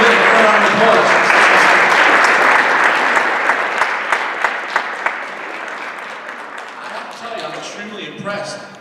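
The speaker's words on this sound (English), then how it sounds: "Give her a round of applause." An audience at a school board of education meeting applauds with dense clapping, which thins into scattered claps that fade out near the end.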